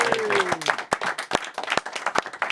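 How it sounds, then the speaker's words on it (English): Studio audience applause for a football guest on a TV show, a burst of sharp claps with a brief tonal sweep at the start, moderately loud and close. "give our guest a round of applause,"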